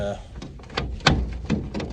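A latched sliding door on a homestead is unhooked and slid open, making a few short clacks and rattles, one sharper knock standing out, mixed in with a person talking nearby.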